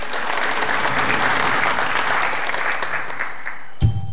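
A studio audience at an Azerbaijani quiz show breaks into loud, continuous applause, a dense sustained clatter of many hands that ends abruptly with a single thump.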